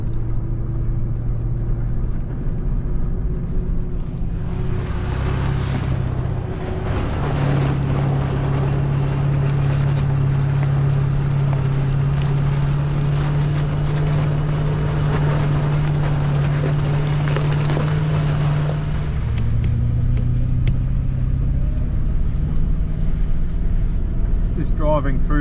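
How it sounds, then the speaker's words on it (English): Vehicle driving along a snowy mountain track in the Victorian High Country, a steady engine drone with road and wind rumble running throughout, loud and close. "Driving through Mount Terrible track."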